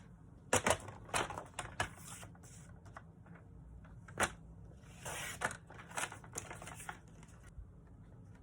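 A cardstock card base from a kit is cut in half, giving sharp, close clicks and snaps with brief scraping passes, scattered irregularly over a quiet background.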